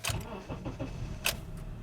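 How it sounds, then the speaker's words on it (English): A Honda CR-V engine is started with a brief whirring crank and the engine catching, accompanied by a couple of short clicks, recorded close at low volume. "So we're gonna start the engine."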